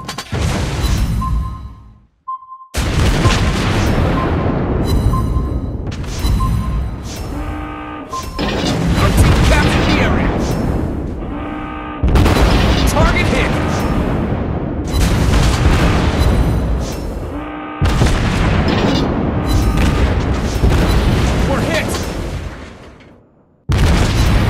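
A tier 8 German battleship Tirpitz exchanges fire in World of Warships Blitz: repeated heavy booms of big guns and explosions follow one another in rapid salvos, loud and close, with brief gaps between volleys.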